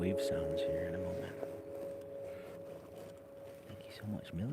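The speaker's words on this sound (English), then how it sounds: "There's a boat going past in the background." A boat passes on open water, its steady motor drone holding a constant hum throughout, with faint voices at the start and end.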